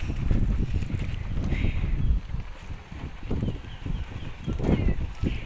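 Strong wind buffets the microphone in loud, uneven gusts, with a rumbling roar that rises and falls for several seconds, at a beach resort campsite.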